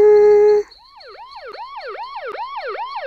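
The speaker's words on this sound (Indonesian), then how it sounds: "Waduh, ada polisi. Kayaknya suaranya mendekat deh." Cartoon police siren wailing in a steady rising-and-falling pattern, fairly loud and clear, after a brief sustained tone at the start.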